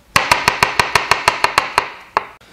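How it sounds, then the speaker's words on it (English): A knife slicing mushrooms on a cutting board, about a dozen crisp, evenly spaced chops in a quick rhythm, close and loud, then a short pause and one final cut. "I can go ahead and slice those mushrooms"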